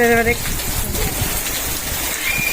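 Heavy rain falls in a continuous hiss, with a voice speaking briefly at the start and a short tonal sound near the end.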